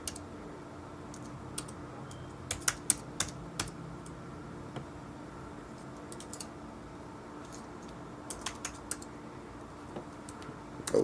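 Close computer keyboard typing in short irregular bursts of light clicks and taps, with pauses between, as a name and email address are entered on a sign-up form.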